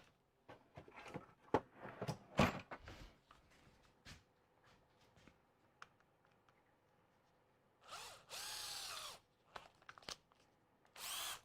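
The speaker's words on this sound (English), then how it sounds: "Drill this hole first." A power drill boring a hole in short bursts: a close, whining run around eight seconds and another near the end, between quieter handling clatter and knocks.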